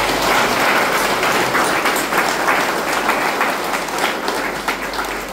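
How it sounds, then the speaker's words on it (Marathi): A church congregation claps together in sustained, dense applause that fills the room, a steady roar of many hands with no voices rising above it. "आपण सर्व MST फादरांसाठी देवाला धन्यवाद देत टाळ्या वाजवूया."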